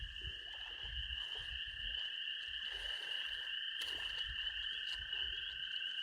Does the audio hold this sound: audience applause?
no